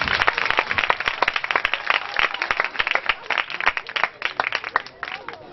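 Loud, dense applause from a church congregation at a Christmas service, continuous sharp clapping filling the space for several seconds with no speech over it.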